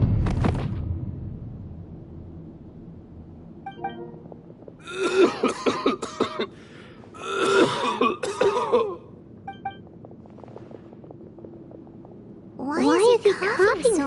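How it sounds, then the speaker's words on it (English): A video game character coughs in several harsh, rasping bursts spaced a few seconds apart, with quieter game sounds between and a final fit of coughing at the end. "Why is he coughing so much?"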